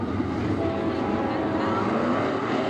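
A field of 410 sprint cars roars away at the green flag of a heat race at Attica Raceway Park, a dense, loud, continuous engine drone from many cars running side by side.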